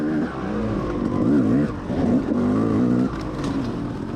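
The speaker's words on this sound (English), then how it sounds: "you may hear a two-stroke behind me" A two-stroke dirt bike engine chases close behind during a motocross ride, its buzzing drone rising and falling under the louder engine of the bike being ridden, steady throughout with no voices.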